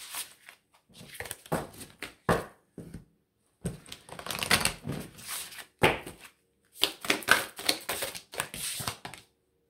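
Oracle cards being shuffled and laid out, a series of close, papery riffles and soft slaps in irregular bursts separated by short pauses.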